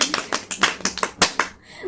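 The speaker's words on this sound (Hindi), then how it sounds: "जोरदार तालियां" A small group breaks into enthusiastic applause, quick uneven claps for nearly two seconds before trailing off.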